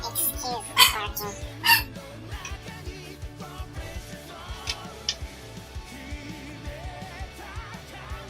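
A dog lets out two quick, loud barks early on, then stays quiet as a person keeps talking over game audio and faint ticking.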